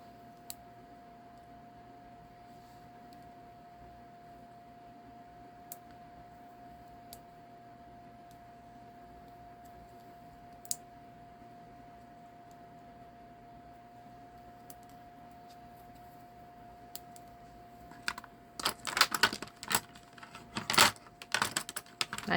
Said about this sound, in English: I know all the noise of me grabbing the bone folder.